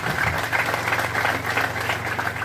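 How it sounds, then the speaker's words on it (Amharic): A church congregation claps steadily and loudly during worship, a dense continuous applause with a low hum underneath. "የጀመራችሁትን ጭብጨባ እስቲ ለኢየሱስ በደንብ አድርጋችሁ ስጡት"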